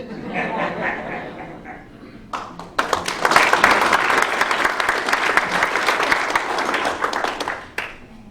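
Applause breaks out at a county budget adoption public hearing, a brief burst of clapping then a louder sustained round from the room lasting several seconds before fading, with faint chatter and chuckles around it.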